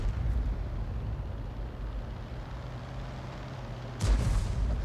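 A Conqueror Gun Carriage self-propelled artillery gun firing in World of Tanks: a single deep boom near the end that follows a steady low engine rumble.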